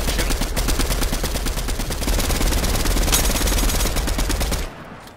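Sustained rapid automatic gunfire in Fortnite, a dense, loud, unbroken stream of shots for nearly five seconds before cutting off abruptly, leaving a low residual rumble.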